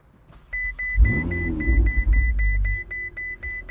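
A Ferrari engine starts up and rumbles low and steady, with a repeating electronic chime beeping regularly over it.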